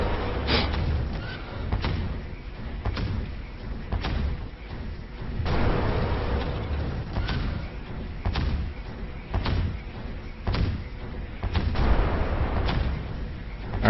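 Missiles launch from an aircraft in the OVRLRD 12 video game, firing in a series of heavy, booming thumps spaced a second or so apart over a steady engine-like rumble.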